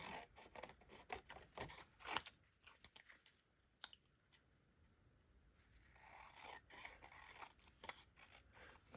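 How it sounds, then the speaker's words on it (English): Scissors snipping through card, a run of crisp close cuts with a short quiet pause midway before the cutting resumes. "And cut my card out."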